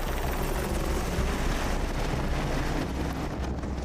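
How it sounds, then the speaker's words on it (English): A US AH-64 Apache attack helicopter flies at very low altitude, its rotor and engine roar loud and continuous throughout with a steady broadband rumble. "That cycle turns a low-flying helicopter into a precise battlefield hunter."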